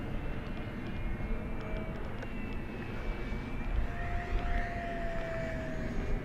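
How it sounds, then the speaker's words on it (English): An FMS Voodoo P-51 RC plane makes a high-speed pass down the runway: a steady propeller whine rises and falls in pitch as it passes, heard from a distance over wind and ground noise. "another high-speed pass down the runway here"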